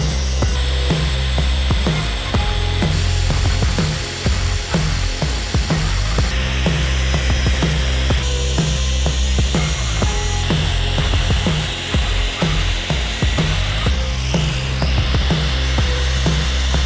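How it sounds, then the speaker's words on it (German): A power grinder flattens one side of Damascus steel parts for a handmade forged folding knife, a steady loud whine with rough, scratchy rasping that shifts slightly in pitch as the metal is pressed and lifted, running continuously with no talk. "Teile habe ich dann erst einmal einseitig plan geschliffen"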